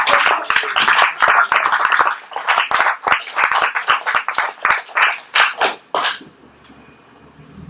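A small audience bursts into loud, close clapping that carries on steadily for about six seconds before stopping abruptly, leaving a quiet room.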